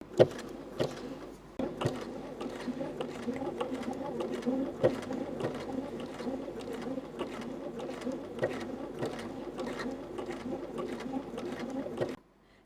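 Sewing machine (B325/B335) running a blind hem with a blind-hem presser foot, its needle ticking in a steady rhythm of sharp clicks over a continuous mechanical hum, close and moderately loud throughout.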